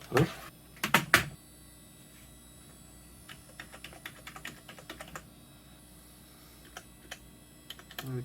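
Scattered keyboard keystrokes clicking at an uneven pace, with a few louder clacks near the start, close by and fairly quiet.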